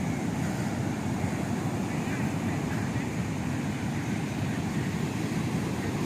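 Surf at Goa beach rolls in as a steady, loud wash of breaking waves with wind noise buffeting the microphone throughout, continuous with no clear pauses.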